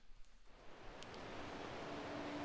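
Waterfall ambience from the video game The Rise of the Golden Idol: a steady broadband rush of falling water that swells in the first half-second and then holds, faint and continuous, with a few brief high tones near the start.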